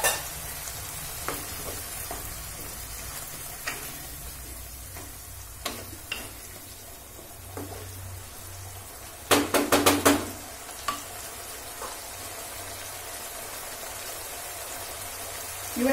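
A pan for spicy prawn curry with a little water added bubbles and sizzles in a steady close hiss, broken by scattered clicks and a short louder burst of spattering partway through.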